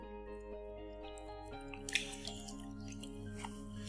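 Hands squish and slap through a wet mix of sourdough starter and warm water in a bowl, soft close sticky squelches and faint drips over a quiet humming room.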